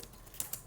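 Light keystrokes on a computer keyboard, a few soft, faint clicks with two slightly sharper taps, heard alone against quiet room noise.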